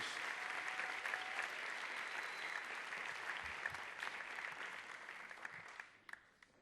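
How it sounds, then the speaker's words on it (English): Sustained clapping from an audience at an awards ceremony for nominees, dense and lively, gradually thinning and fading out near the end. "let's have another round of applause for all these great nominees"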